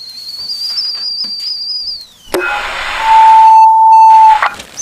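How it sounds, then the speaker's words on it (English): A kettle sounds a steady high whistle that slides downward and cuts off, followed by clatter and a loud, even electronic tone, with no talk. "The kettle's on."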